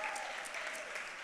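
A brief burst of crowd clapping at a women entrepreneurs' summit, dense and continuous at a moderate level, cut short after about a second.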